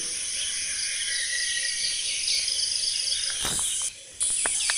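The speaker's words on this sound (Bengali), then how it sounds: "পাখিরা সকালবেলা ডাকছে" A constant high-pitched chorus of morning calls, many kinds of birds and likely insects in village trees, runs steadily, then a brief rustle and a few sharp chirps near the end as birds fly between trees.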